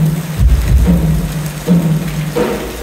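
Heavy rain drums steadily and loudly on a surface, with dense close rushing noise and low thumping surges throughout.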